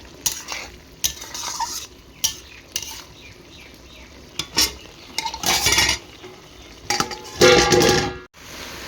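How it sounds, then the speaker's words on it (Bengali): Jute greens with small fish get stirred in a pan, a spatula scraping and clinking against the metal in irregular bursts over a light sizzle, close and fairly loud, with no talking. "শাকগুলো দিয়ে নাড়াচাড়া করে এখন একটু ঢাকা দিয়ে দেবো"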